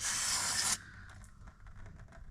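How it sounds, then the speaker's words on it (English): Brake cleaner sprays in a loud, close hissing burst under a 2020+ Ford Explorer, cutting off abruptly after under a second, followed by faint scraping and handling sounds. "spray it off with some brake cleaner"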